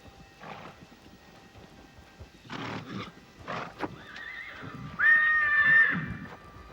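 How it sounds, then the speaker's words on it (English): Wild brumby stallions at a crowded outback water hole neigh and whinny in confrontation, with loud squealing calls toward the end, hoof clops and snorts, moderately close with no talk. "More confrontation between stallions."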